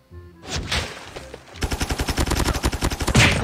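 Rapid shotgun and automatic gunfire in Call of Duty ranked play: a scattered burst first, then a steady run of loud, evenly spaced shots closing on a heavier blast, with no talk over it.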